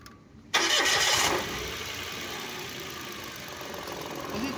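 A car engine cranks and catches during a pre-purchase starting-system check, with a loud burst of starter and revving for about a second. It then settles into a steady, moderately loud idle.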